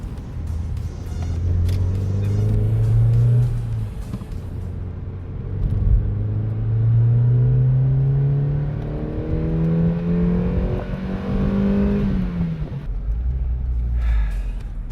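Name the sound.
Mazda MX5 NB naturally aspirated engine revving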